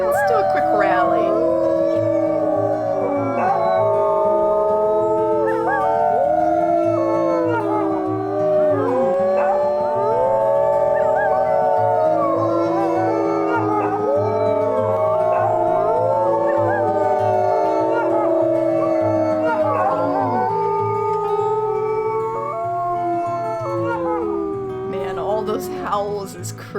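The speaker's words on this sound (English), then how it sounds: "I don't know if y'all can even hear me talking over that." A wolf pack in the video game WolfQuest howls together in a loud, sustained chorus of overlapping rising and falling wails, layered over low rhythmic game music and continuing for nearly the whole stretch.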